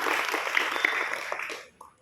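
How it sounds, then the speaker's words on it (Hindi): An audience at a motivational program claps together in a brief burst of applause that tapers off quickly, with a voice faintly audible beneath it. "मैं चाहूँगा एक बार आप अपने लिए तालियां बजाएं"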